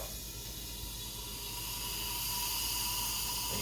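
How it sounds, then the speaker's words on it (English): Air rushing into a JVR Vac100 vacuum chamber as it is vented, sealing a mason jar lid: a continuous loud, broad hiss that swells slightly stronger toward the end, steady with no voices. "That's the sound of the air rushing in."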